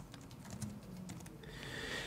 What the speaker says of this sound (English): type in the user name, which is the email address